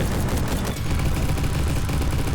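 Dense, loud gunfire from an FAL rifle in an online shooting game, a continuous roar of rapid shots with a brief dip midway and no voices.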